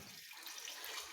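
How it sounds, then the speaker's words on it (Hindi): Water pours steadily from a tap into a pot of moong daal, a continuous soft hiss and splash with no talking. "अच्छे से दाल में पानी ऐड कर रही हूँ।"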